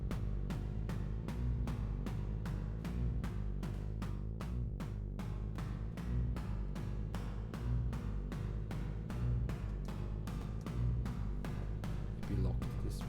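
Synth played through the PiPicoFX Saturn reverb effect, a dense, steady wash of sound pulsing in quick regular beats for over ten seconds, moderately loud with no voices.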